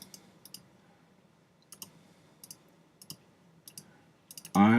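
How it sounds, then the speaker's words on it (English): Several soft double clicks of a computer mouse sound close by in a quiet room, pairs of sharp ticks spaced about a second apart, ending with a sudden louder noise. "I'm gonna create by double clicking on an empty spot."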